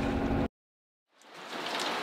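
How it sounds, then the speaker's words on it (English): Heavy rain on a moored sailboat in a Whitsundays creek, Australia: a dense, steady hiss of downpour that cuts out briefly, then swells back in and holds at a constant level, with no voices. "The rain has been relentless, so it's been pouring for days"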